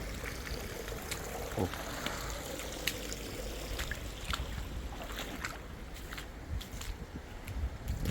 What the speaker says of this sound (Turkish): Bu kadar su var. Şelale gibi akıyor her yerde.